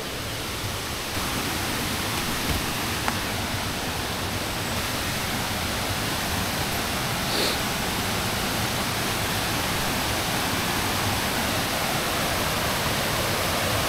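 Waterfall on Mt. Isarog in Camarines Sur gives a constant loud broadband roar of rushing water, steady and unbroken for the whole stretch.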